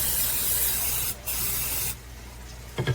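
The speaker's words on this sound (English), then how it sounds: "with our cooking baking spray." Cooking baking spray hisses from an aerosol can into a cake pan in two long, loud, close bursts separated by a brief pause, followed by a light clatter.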